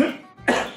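A man coughs twice, a rough, close cough with a short gap between bursts, during a lively comedy chat show.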